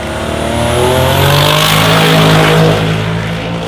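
A V6 Holden Commodore street car on a turbo build makes a drag strip pass. The engine roars loud and close as it climbs steadily through the revs, with a sweeping whine over the top, and there is no talking.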